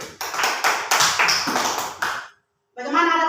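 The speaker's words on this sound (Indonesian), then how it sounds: "kita berikan tepuk tangan dulu untuk kelompok 1." Classroom applause for a student group at a religious lesson: a short burst of loud, uneven hand claps for about two seconds, stopping abruptly, followed after a brief pause by a voice speaking.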